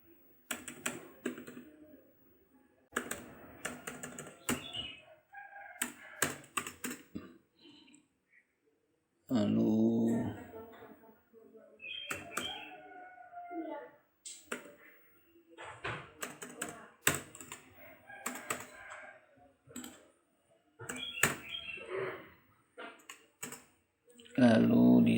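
Rapid keyboard clicks in bursts as figures are entered on a computer keyboard for a monthly PPh 21 income tax calculation, with a person talking between and over the typing.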